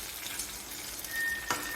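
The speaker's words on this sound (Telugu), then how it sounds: "పోపు బాగా వేగాలండి." Spices temper and crackle in hot oil for a ponnaganti greens curry, a soft steady sizzle with a faint clink near the end.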